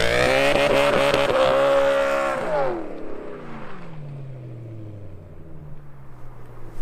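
A BMW M3 E92 with a stage 1 tune makes a standing-start launch: a loud, high engine roar holds for a couple of seconds, then drops in pitch and fades as the car pulls away into the distance.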